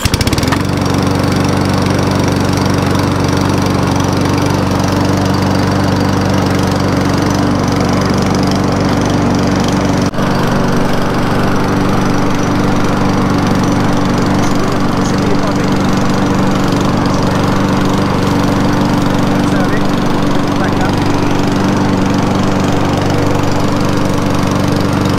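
A lawn mower engine runs loudly and steadily throughout, close by, with a constant rough drone that never drops off.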